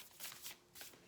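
Oracle cards are shuffled by hand in a brief, quiet burst of two quick riffling flutters close by, with no voices.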